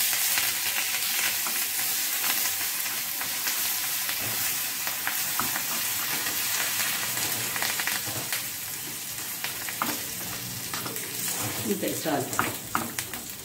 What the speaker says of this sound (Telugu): జీలకర్ర ఆవాలు పల్లీలు ఓకే అన్నీ వేగిపోయినాయి లాస్ట్లో కొంచెం ఇట్లా కరివేపాకు వేసామంటే